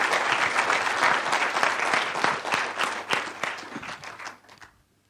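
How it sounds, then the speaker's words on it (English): An audience gives chefs a hearty round of applause, a dense and lively clatter of many hands that gradually tapers off and fades into near silence at the end. "Would you please give all these chefs another round of applause"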